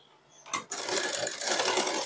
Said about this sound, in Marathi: आपल्याला इथं किनारीला व्यवस्थित अशी शिलाई मारून घ्यायची आहे